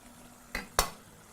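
A spoon stirs butternut squash curry in a cooking pot, making two short, distinct scraping strokes close by against a quiet background.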